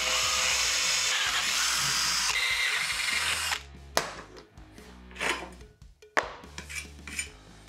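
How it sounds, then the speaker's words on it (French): Power drill boring holes through an aluminium profile clamped to the edge of a bench: a continuous high, loud drilling whine that cuts off after a few seconds, followed by clanks and metallic handling noises. "le diamètre intérieur étant justement pile poil celui du foret que je vais utiliser pour faire tous mes trous"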